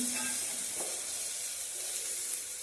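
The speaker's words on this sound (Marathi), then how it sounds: "मनुका काजू आणि बदाम हे पण आपण भाजून घ्यायचे" Raisins, cashews and almonds roast in a pan with a steady, close sizzle that hisses on without pause for modak filling preparation; no one speaks.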